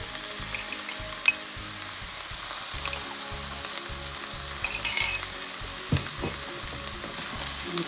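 Hot dog and potatoes fry in a pan with a continuous sizzle, while a utensil stirs through them in a regular scraping rhythm, close up and with no voices.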